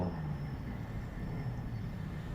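An electric BTS Skytrain in Bangkok rumbles along with a steady low mechanical drone and a faint high whine, continuous and fairly close.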